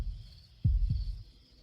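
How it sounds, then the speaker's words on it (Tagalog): A heartbeat sound effect in a romantic drama scene gives three deep, muffled thumps at a steady pace, close and alone over a faint hum. "Tuwing kasama kita, bumibilis ang tibok ng puso ko."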